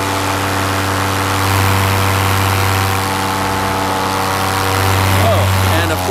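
A paramotor engine at full throttle during a climb: a loud, steady, droning propeller-engine roar that holds constant pitch throughout, close to the listener, with a voice faintly present beneath it.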